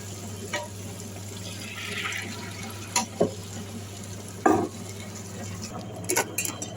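Soaked rice and ice water going into a wet grinder, heard as scattered clinks, knocks and a watery splash or two over a constant low hum, with quiet gaps between the sounds.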